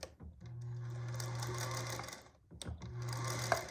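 A sewing machine stitches bias binding down in two short bursts, running forward and back with a steady whirring drone and a brief stop between runs, near and quiet.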